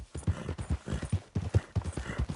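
Horse hooves trotting in Red Dead Redemption 2, a quick, close, rhythmic clip-clop of several hoofbeats per second at a steady gait, with no talking.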